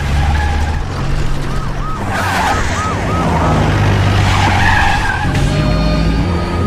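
A jeep skids hard during a high-speed chase in the climax of a Kamal Haasan action film, with loud, sustained tire squeals over a continuous roar of engine and traffic noise.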